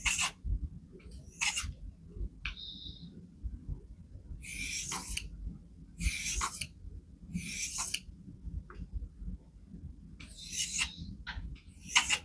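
A file rasps back and forth along the burred edge of a poorly heat-treated knife in a series of short, quiet scraping strokes with brief pauses between them, over a low background hum.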